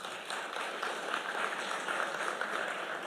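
Audience applause for a chorale and band at a conference gathering, a dense steady wash of many hands clapping at moderate distance, fairly quiet and even throughout.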